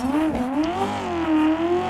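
Drift car in Assetto Corsa, its engine droning steadily with shifting pitch and tire noise as the car slides sideways, loud and continuous throughout.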